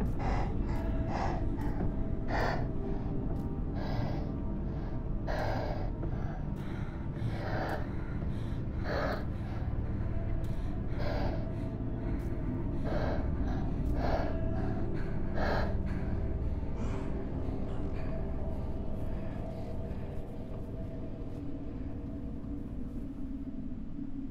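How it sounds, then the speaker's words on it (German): Abnormal heavy breathing in the horror game Martha Is Dead: a long series of sharp, gasping breaths repeating every second or two over a low droning background. "Das Atmen klingt nicht normal."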